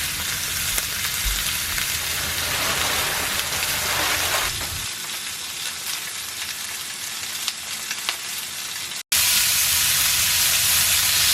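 Pork chops sear loudly in a hot pan, a steady dense sizzle running throughout, briefly cut off near the end and then resuming at full strength.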